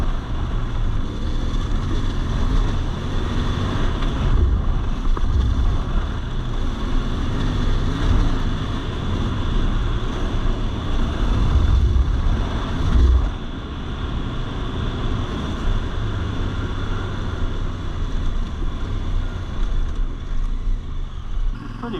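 A CF Moto 450MT Ibex motorcycle rides off road through loamy mud, its engine droning continuously under heavy wind buffeting, with a few thumps and surges as it pushes through loose ground.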